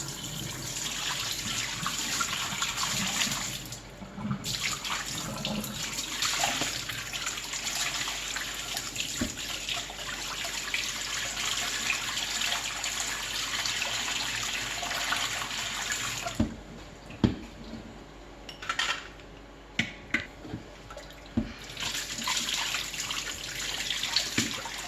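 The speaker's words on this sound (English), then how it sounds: "Let's drain this water off of this turkey the best you" Water drains and runs in a kitchen sink as it is poured off a raw turkey during holiday food prep, a steady splashing stream with a few clunks and brief pauses, close and continuous with no talking.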